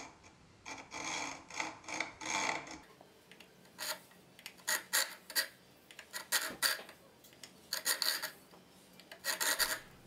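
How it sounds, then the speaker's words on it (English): A checkering file rasps jimping into the spine of a steel fixed-blade EDC knife in repeated short strokes, a close, dry grating that comes in bursts with brief pauses between them. "Now I'm going to add some jimping to the spine using a checkering file."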